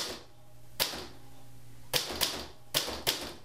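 A manual typewriter clacks with sharp, separate key strikes: one lone hit, then a cluster of four quick snaps over a soft steady room hum, close and fairly quiet with no voices.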